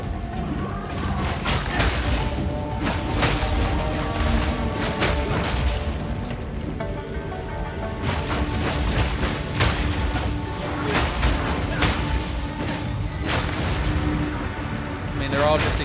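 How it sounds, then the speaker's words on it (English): Video game explosions in Palworld, a dense, continuous barrage of booming blasts and crashes layered over one another, with a voice talking over the din. "They're all just exploding."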